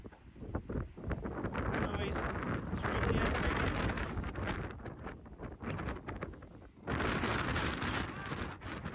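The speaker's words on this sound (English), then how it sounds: "the wind was whipping. Crazy flying conditions." Strong, gusty wind buffets the microphone at a hillside dynamic soaring glider flying spot. The roar is loud and continuous, surging and easing throughout.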